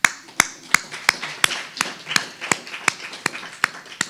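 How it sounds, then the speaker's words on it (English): A single person claps alone at a creative writing celebration, about a dozen crisp, close claps in a slow, even rhythm, with a quiet room between them. "I'm clapping."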